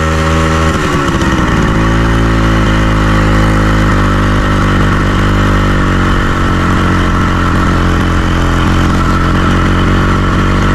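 A motorcycle engine runs loud and close, holding a steady idle-like drone with a rougher, shifting rumble. No talk is heard over the continuous mechanical noise.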